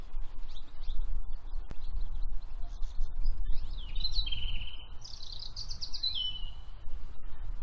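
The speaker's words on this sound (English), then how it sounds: "Isn't the bird song lovely?" Spring birds sing outdoors in several clear chirping and warbling phrases, rising above a steady low background rumble.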